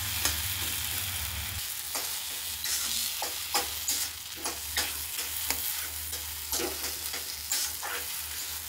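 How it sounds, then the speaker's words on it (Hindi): Potato masala for a dosa filling fries in a pan, with repeated stirring strokes scraping through a steady, close sizzle; no voices. "ये आलू को बढ़िया से भुन जाने का"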